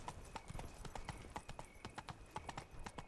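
Horse hooves clip-clop in a steady, quick rhythm in The Witcher 3 video game: crisp, evenly spaced hoofbeats that are moderately close, heard alone with no speech.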